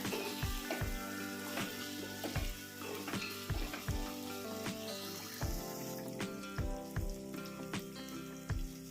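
Moringa drumsticks and onion frying in oil in a home kitchen pan, a steady close sizzle broken by regular clinking stirs of a utensil against the pan.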